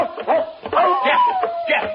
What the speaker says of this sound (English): Jeff, you fool dog. Come back here.